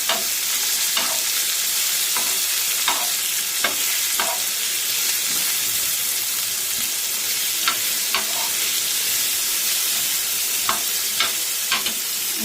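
Onions being lightly fried and stirred in a pan for a mashed bharta dish, giving a dense, bright, continuous sizzle punctuated by sharp scraping taps from the spoon, close up and loud, with no talking.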